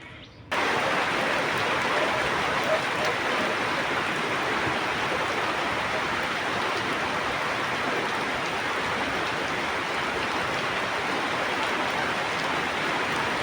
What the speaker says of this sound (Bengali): বৃষ্টি কিন্তু জোরে মানে আসতেছে আর কি, সম্ভাবনা আছে একটু জোরে আসা